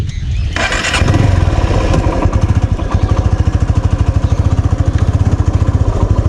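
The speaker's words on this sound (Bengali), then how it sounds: "তো চলেন একটু বাইকটি রাইড করে দেখি।" An Apache RTR 2V motorcycle engine starts after a quiet moment and settles into a loud, close, rapidly pulsing idle and ride rhythm that continues steadily without speech.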